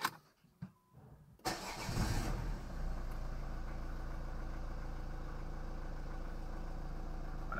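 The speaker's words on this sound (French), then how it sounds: "Et on démarre le moteur." Engine of a Renault or PSA Peugeot Citroen car with an automatic gearbox starting after a few faint clicks from inside the cabin: a brief cranking whirr catches, then it settles into a steady, even idle hum close by.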